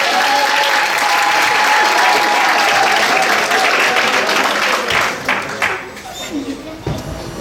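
Loud, enthusiastic applause from guests at a 60th birthday party, dense clapping with crowd noise that holds steady, then tapers into scattered claps and murmuring toward the end.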